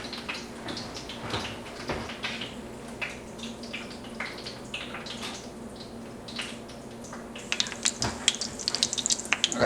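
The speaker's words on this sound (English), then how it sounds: "We've got our pan heated up, so I'm just going to go ahead and throw these on." Chicken breasts sizzle steadily in a preheated pan, a dense continuous frying hiss with scattered crackles and pops that grow louder toward the end, close and alone with no talking.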